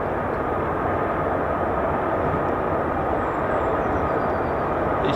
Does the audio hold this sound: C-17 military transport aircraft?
yes